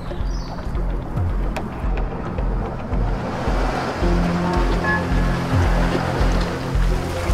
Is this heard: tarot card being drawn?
no